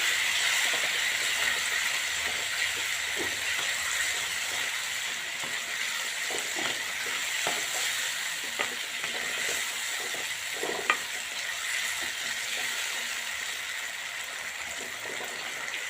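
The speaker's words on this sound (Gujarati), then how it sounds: "ગીલોડી નાખી દઈશું મિક્સ કરી લેશું" Ivy gourd pieces sizzle and hiss in hot masala in a frying pan as they are stirred, with a steady frying noise and occasional scraping clicks of the spoon, close and moderately loud throughout.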